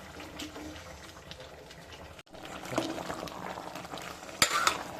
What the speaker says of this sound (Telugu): టెన్ మినిట్స్ అయింది కూర తిప్పుదాం